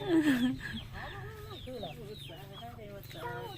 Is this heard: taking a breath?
no